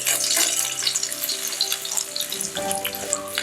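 Crushed ginger, garlic and hot pepper sizzling in hot oil in a pan, a crackling, spattering fry with bursts of popping that continues throughout, alone and close.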